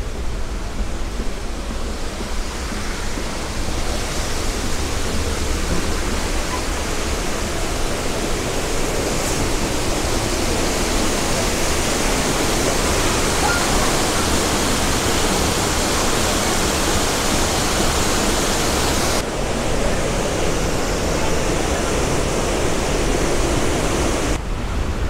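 Düden waterfall in Antalya, Turkey, gives a continuous close roar of falling water, dense and unbroken, with spray hissing over the whole stretch and no voices.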